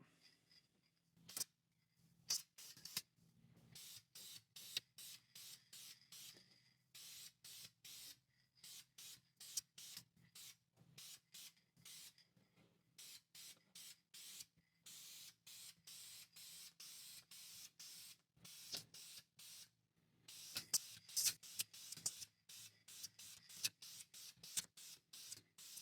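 A spray gun lays down a wet coat of paint in many short, sharp hissing bursts, some rapid and clustered, others spaced apart, fairly faint with near silence between them.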